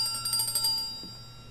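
A small bell in the game Life Is Strange: True Colors rings with a few quick, bright tinkling strikes, then the shimmering tone fades away, close and fairly quiet.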